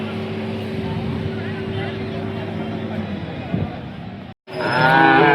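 Khillar bulls and cattle at the busy Sangola cattle market, with a low drawn-out bovine call early on over a steady crowd murmur and a sudden break near the end.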